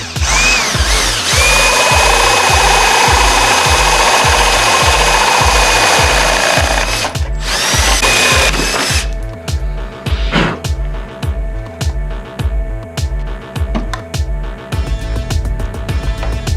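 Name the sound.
power drill drilling holes in motorcycle handlebar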